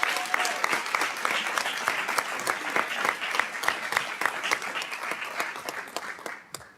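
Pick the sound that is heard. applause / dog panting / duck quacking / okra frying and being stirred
applause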